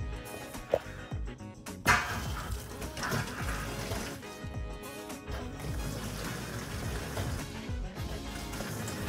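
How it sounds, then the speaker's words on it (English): Seawater gushing and splashing into a cargo trailer's tank, a continuous churning flow with a couple of sharp knocks early on, nearby and fairly quiet. "we got water going into the tank"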